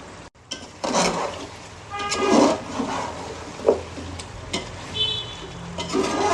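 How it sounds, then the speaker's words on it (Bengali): Potato pieces frying in a pan with spiced beef bhuna, heard as soft sizzling broken by intermittent scraping stir bursts at close range, with no talking. "এবার আলুটা দিয়ে আমি আরও 3 থেকে 4 মিনিট সুন্দরভাবে আলুটাকে একটু ভাজা ভাজা করে নিব সব কিছুর সাথে"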